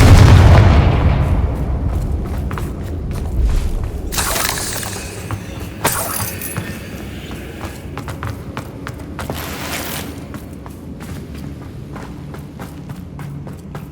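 A Confringo spell explosion in the Hogwarts Legacy video game, a loud boom at the start that rumbles and fades, followed by scattered crackling bursts and thuds of the fight.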